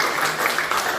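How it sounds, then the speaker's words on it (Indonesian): A short burst of dense applause from a class of students, a steady, crowded clatter of many hands clapping at once that holds the full second without a pause. "tepuk tangan untuk kalian semua ya"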